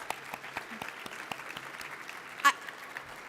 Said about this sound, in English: Can we get some applause for the table captains?